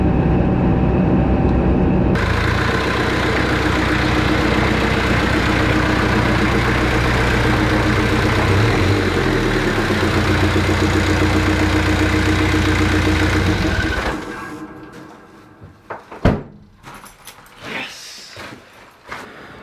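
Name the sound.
Jeep Cherokee XJ 2.5 turbo diesel engine cruising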